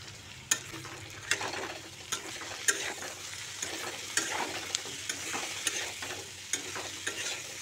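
Ginger, garlic and dried chili paste being stirred into pork in a pan, with soft sizzling and a regular run of sharp spoon scrapes and taps close up, no talking.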